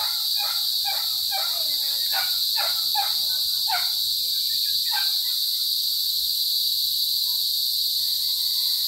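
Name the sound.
crickets chirping loudly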